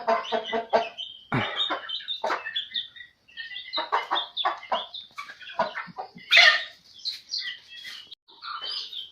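Chickens cluck and squawk repeatedly in a lively, close-up chorus of short calls, with no talking.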